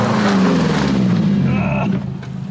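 A loud, rumbling Nissan 240SX engine with a harsh, raspy blast pipe exhaust roars steadily, then drops off near the end.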